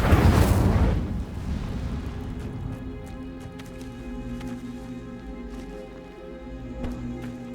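Incendio fire spell cast in the Hogwarts Legacy video game during a fight at a goblin camp, a loud whooshing burst of flame for about a second, then a lingering rumble with faint game music underneath.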